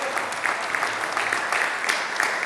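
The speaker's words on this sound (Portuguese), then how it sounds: "Você pode dar um aplauso a Jesus agora" A church congregation applauds in a steady, dense wash of clapping that fills the hall.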